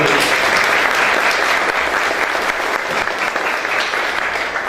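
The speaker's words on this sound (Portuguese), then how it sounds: "Uma salva de palmas" Loud, sustained applause from an audience at a service-design talk, dense steady clapping filling the whole stretch without a break.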